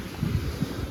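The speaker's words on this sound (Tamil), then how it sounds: "நல்லா காற்று அடிக்குதுங்க." Strong wind buffets a seaside park in Thalassery, Kerala, a close, steady rushing gust pressing against the microphone with low rumbling bursts throughout.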